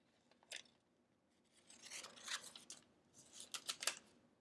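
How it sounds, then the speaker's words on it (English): Sharp scissors snipping through fabric for needle-turn appliqué, a few quiet crisp cuts in short bursts with faint rustling between them. "This is a sharp scissors."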